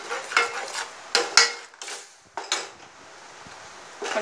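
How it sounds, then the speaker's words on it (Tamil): A spoon clatters and scrapes against a cooking pan while coconut is stirred into masala over high flame for a ladies finger puli kulambu, with several sharp metallic knocks spread irregularly and faint sizzling between. "தேங்காய் நல்லா மிக்ஸ் பண்ணிவிடுங்க மசாலாவோட"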